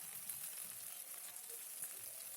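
Onions and ginger garlic paste frying in a kadai, giving a faint, steady, fine crackling sizzle with no talking.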